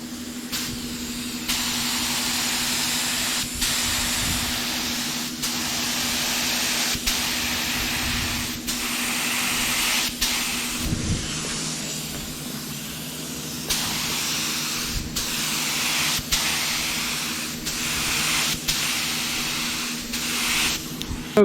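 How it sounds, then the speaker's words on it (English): A spray gun lays a tack clear coat onto a metal flake panel in a continuous loud hiss. Brief pauses and clicks break it at regular intervals, with a low hum beneath and no talking. "I'm going to go ahead and spray down the tack clear"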